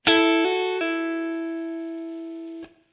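An electric guitar plays a short Motown-style lick of a few quick notes with a hammer-on, the last one ringing out and sustaining before a final brief note cuts it off.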